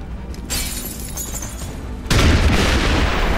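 A shot at a target in XCOM 2 is followed by a loud booming blast that shatters it into a dense, sustained roar of debris and destruction, close and filling the scene.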